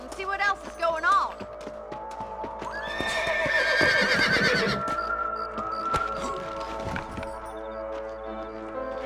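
A horse in Red Dead Redemption whinnies close and loud, and hooves clip-clop steadily under a rising musical swell, with voices talking through it.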